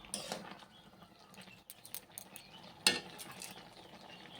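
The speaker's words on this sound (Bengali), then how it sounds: "এবার আরেকটু নাড়াচাড়া করে নিচ্ছি, ভালো করে কষিয়ে নিচ্ছি।" Banana stem curry is stirred and fried in a pan: scattered scraping clinks of a spoon against the pan over a faint, patchy sizzle, with one sharper knock near the middle and no voices.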